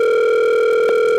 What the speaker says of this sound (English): I know the phone's ringing live.